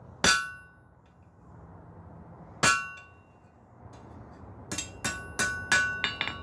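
Hammer blows on a flatter top tool made from flat bar, sharp ringing metallic strikes: two spaced single hits, then a faster run of about six strikes, close and clear in a quiet shop.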